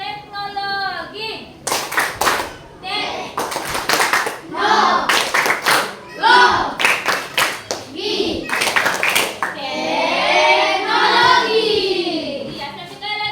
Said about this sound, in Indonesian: Tepuk teknologi.